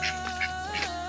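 A domestic goose honks in a muddy yard after rain, with several nasal, harmonic calls spaced across a second, fairly close and clear, with no talk.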